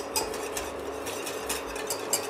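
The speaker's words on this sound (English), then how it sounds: "with a whisker, we will add a little bit of this in a boiling sauce" A whisk stirs a boiling red wine bordelaise sauce in a pan, giving quiet, quick, repeated scraping and clinking against the metal, close by with no voices.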